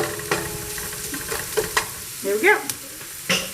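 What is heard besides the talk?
food sizzling in pan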